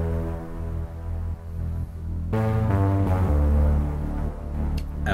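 Deep, sustained sub bass chords from a Moog Sub 37 synthesizer sit under a breakdown section, with a thick low end and chord changes moving across a few seconds of music.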